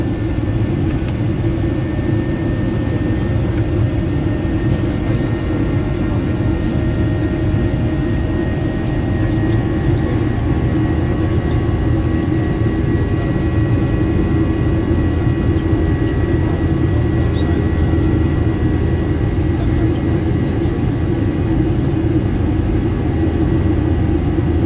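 A TUI Boeing 737-800 jet takes off from Birmingham, heard from inside the cabin as a loud, steady low engine roar and rumble that sustains throughout with a faint high whine above.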